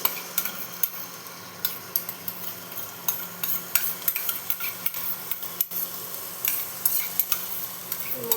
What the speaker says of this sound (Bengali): এখন এর মধ্যে আমি গোবিন্দভোগ চালটা দিয়ে দেবো